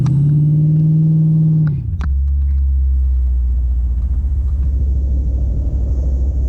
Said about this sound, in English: I'm riding in his car that he built himself in his garage